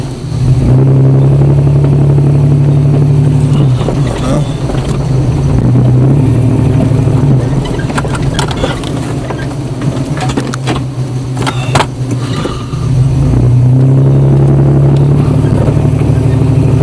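A 4x4 truck engine rumbles and revs continuously as it rolls onto a motocross track at a sports center, loud and close with varying throttle, bumps and rattles over rough ground.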